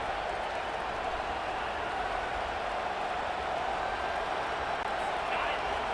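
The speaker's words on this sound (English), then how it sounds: "This crowd, full throat, splitting the eardrums" A stadium crowd in a college football video game, Michigan against Purdue, roars as a dense, steady wash of cheering and applause that stays loud and continuous throughout.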